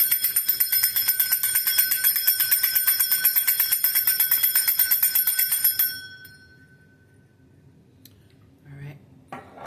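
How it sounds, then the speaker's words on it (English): A brass bell is rung rapidly and continuously for about six seconds, a bright, loud, close metallic ringing with a steady pulse, then it stops and a faint decaying ring and small handling noises follow. "All right, my brass bell."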